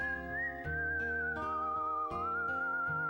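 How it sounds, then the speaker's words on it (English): Whistled melody from the Wild Arms 3 video game soundtrack, a clear, sustained tune carried over a steady musical accompaniment with rhythmic beats, prominent and unaccompanied by talk. "the whistle music"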